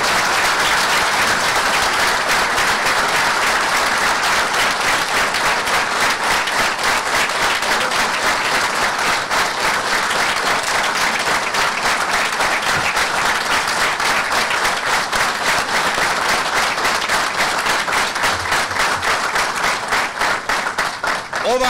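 A large audience gives sustained, even applause for honoured Bosnian war generals, dense rhythmic clapping that carries on steadily for over twenty seconds with a slight crowd murmur beneath.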